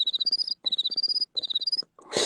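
A voice actor imitates cricket chirping with his mouth: three bursts of rapid, high trilling chirps, each under a second long and separated by short pauses, close and clear, then a brief breathy noise at the end.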